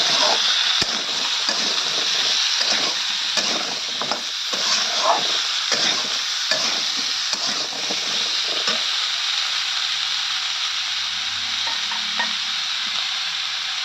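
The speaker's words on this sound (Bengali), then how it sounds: "ভালো করে নেড়ে মিক্স করে দেবো।" A spoon stirs ginger paste into a simmering catla fish curry with brinjal and kohlrabi, giving repeated scraping and splashing strokes over a constant loud sizzle, then tapering into quieter bubbling.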